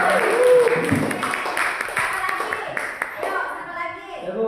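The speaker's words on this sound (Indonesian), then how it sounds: "Jadi tepuk tangan dulu" Audience applause at an Indonesian school teaching event, a burst of clapping from many hands that swells and fades over a few seconds, mixed with voices chattering underneath.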